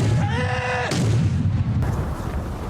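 Cannon fire from The Last Samurai, heavy booming blasts rolling one after another under a voice and musical score.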